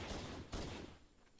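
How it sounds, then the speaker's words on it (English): A chain gun in Halo: Combat Evolved fires rapid continuous bursts that blur into a dense, roaring rattle, easing off toward the end. "this chain gun is shooting shotgun rounds of fucking 50 caliber bullets"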